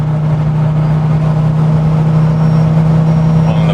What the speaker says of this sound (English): One of the best 5-pot sounds ever.